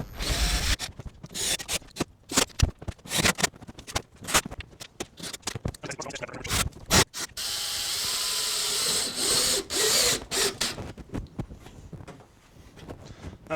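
A power drill drives screws into thin aluminum camper van sheet metal in short, irregular bursts of whirring and gritty grinding, with one longer sustained run near the end, all up close.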